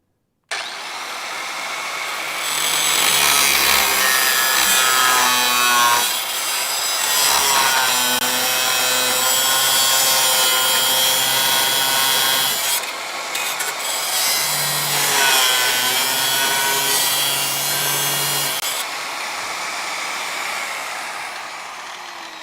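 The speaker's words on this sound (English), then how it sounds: "I'll zap it here like that, and then we'll get the rest with the Dremel" A Dremel cutting disc grinds through rusty metal on a Dodge crew cab truck, a loud high whine in long sustained passes with short pauses between cuts and no talking.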